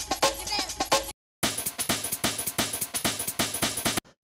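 A chopped and pitched drum break for warped rave music, with punchy hits in a quick syncopated pattern, a short silent gap after the first second, then the loop resuming loud and crisp, no voices.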